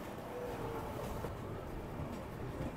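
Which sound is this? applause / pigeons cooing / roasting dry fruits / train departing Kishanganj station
train departing Kishanganj station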